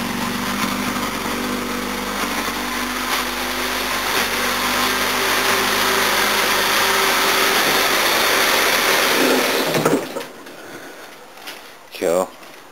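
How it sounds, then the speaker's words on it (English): A 1969 Jaguar XJ6 Series 1 engine idling with a steady, slightly uneven running note, loud and close, fitted with a Series 3 head, cutting off near the end as a voice speaks briefly. "it's running pretty damn good for a XJ6 Series 1 at idle."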